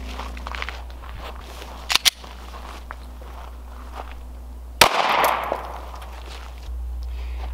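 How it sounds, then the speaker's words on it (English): Gunshots fired at handcuffs resting against a cinder block, two sharp reports close together early on and a louder single crack later with a brief ringing, rustling tail, set against a steady low hum. "Let me shoot it a few more times."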